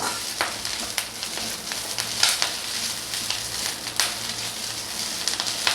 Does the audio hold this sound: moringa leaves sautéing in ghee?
yes